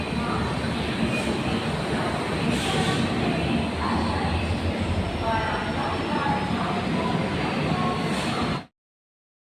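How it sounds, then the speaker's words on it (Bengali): Rajdhani Express passenger train pulling into a railway platform, a steady broad rumble of wheels and carriages filling the clip with people's voices faintly underneath, then cutting off abruptly near the end. "রাজধানী আসছে বন্ধুরা, রাজধানী ঢুকলো আর কি।"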